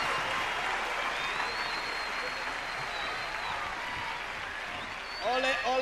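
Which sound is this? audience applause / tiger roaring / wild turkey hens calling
audience applause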